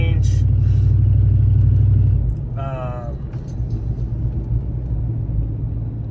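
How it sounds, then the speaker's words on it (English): A car engine drones loudly while being driven, then drops off sharply partway through as the gear is changed and settles into a lower rumble, with a person talking over the cabin noise. "Going to do a gear change."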